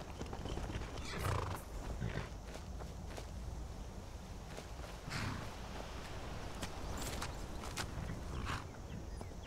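A horse in the video game Skyrim, with repeated neighs and whinnies over steady clip-clopping hooves on the ground, nearby and fairly loud throughout.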